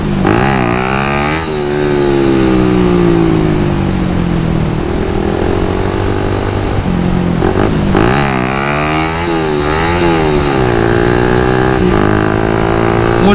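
A Suzuki Satria FU motorcycle engine revs hard and loud during wheelie practice, its pitch climbing and dropping in repeated surges up close, with no talk over it.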